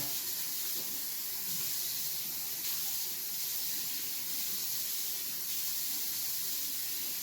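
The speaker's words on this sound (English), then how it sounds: "So now I'll put my pan back in here. Like I did before, rinse it." Kitchen tap water runs steadily into a frying pan, a continuous close hiss and splash that stays constant throughout with no talking.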